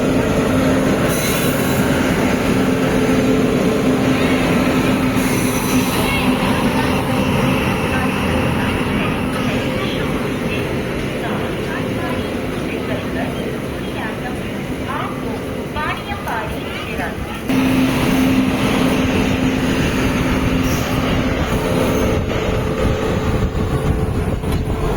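The Katpadi–Jolarpettai MEMU passenger train 66017 rolls along at speed, a loud, steady rumble of wheels and carriage noise with occasional squeals, heard from close by for the whole stretch.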